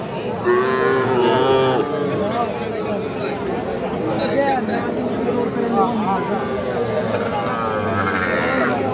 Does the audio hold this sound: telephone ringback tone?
no